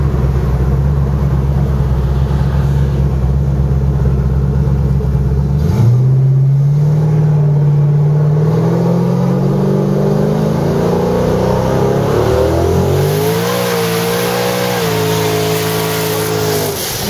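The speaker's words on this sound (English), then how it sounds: "it just will not stop burning the tires" A 1500 HP fifth-generation Camaro roars through a sustained tire burnout, its loud engine revving and climbing in pitch with continuous tire-spinning rumble, close and without talk.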